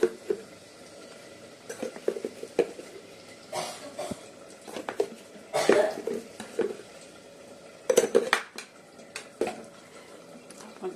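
Chicken being mixed by hand in a bowl with ginger paste, garlic paste, green chilli and cornflour, giving irregular wet squelching and stirring bursts with occasional clinks against the bowl, close and fairly soft.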